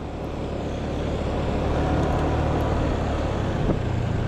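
A car passes on the left along a road near Sanghyang Kenit in Bandung, a broad engine and tyre rumble that swells close by and stays loud over continuous traffic noise.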